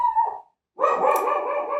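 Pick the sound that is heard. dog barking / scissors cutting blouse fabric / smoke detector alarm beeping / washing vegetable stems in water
dog barking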